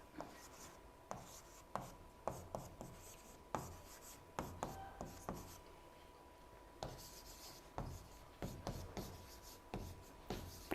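Writing on a board during a chemistry lesson in a classroom: a series of short, quiet tapping and scratching strokes in irregular bursts, with a brief pause partway through, close and faint.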